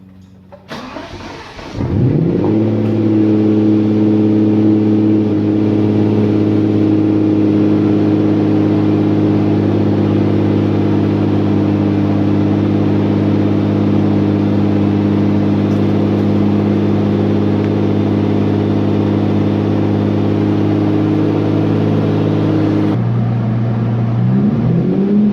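A Lamborghini Diablo engine fires up after a brief crank, then holds a loud, steady, throaty idle with a deep rumble for over twenty seconds before cutting off near the end, with no talking.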